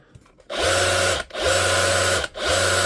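A DeWalt DCH273 cordless rotary hammer drill runs in three loud, steady bursts, each spinning up and cutting off, with motor whine but no hammering action. It has a rotation-only fault.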